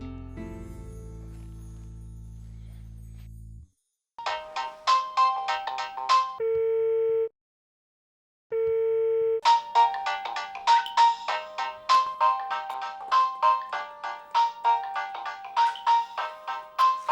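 A telephone rings for an incoming call, a bright electronic ringtone melody in repeated bursts with a short pause partway, loud and close, preceded by a low steady tone, with no voices.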